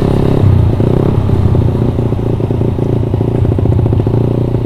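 A 2014 Suzuki Satria FU facelift motorcycle engine revs loudly and steadily close by, with a rough, rattling idle-to-rev drone throughout and no talking.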